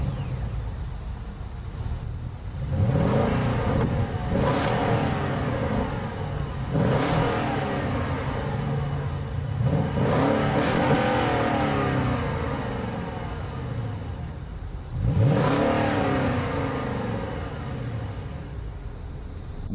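A 2017 Genesis G80 with the 5.0 V8 starts up and revs repeatedly, loud and close, with several sharp throttle blips rising and falling over a steady idle, no talking.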